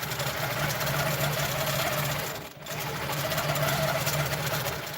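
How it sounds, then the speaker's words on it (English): A sewing machine quilting a wave design on a quilt runs in a steady, even whir with one brief pause midway, close and alone without talk. "I'm going to quilt a design, and I'm going to end up right back where I started."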